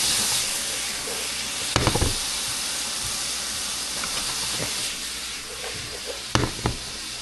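Meat for caldo de albóndigas fries in melted butter with a loud, steady hiss, broken by a couple of sharp spatula clicks and scrapes and no talking.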